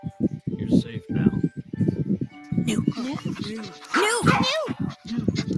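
A frightened dog whimpers and yips in high, wavering cries, mixed in with a voice speaking repeatedly over it.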